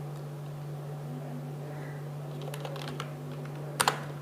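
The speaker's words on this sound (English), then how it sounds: "you have to type label" Computer keyboard typing: a short burst of key clicks, faint at first then building to a couple of sharp louder taps, over a steady electrical hum.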